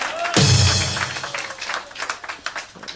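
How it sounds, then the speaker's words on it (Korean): A crowd at the opening ceremony of a party's central office breaks into applause, a sharp loud burst that fades into scattered clapping over a few seconds. "여러분 박수 한번 주시기 바랍니다."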